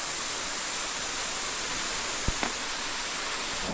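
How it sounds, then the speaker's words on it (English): A waterfall in a Korean mountain valley roars as a dense, steady rush of water, loud and unbroken throughout, with a couple of faint knocks partway through. "a waterfall and just magical area for real"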